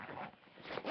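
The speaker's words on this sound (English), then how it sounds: "Like, when you zip it up." A tape bag's zipper pulled closed in one quick, close rasping stroke lasting about a second, faint and alone without speech.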